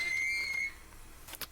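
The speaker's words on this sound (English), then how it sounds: "That's the sound of a Kvalson crane." A Kvalson crane at a harbor in the video game Disco Elysium lets out a brief high metallic screech that fades after about half a second, followed by faint mechanical rattles.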